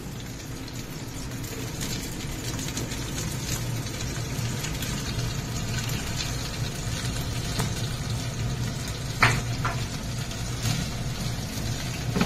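Chopped onions fry in a pan with a steady, dense sizzle and hiss, a low hum underneath and a few faint clinks, with no voices.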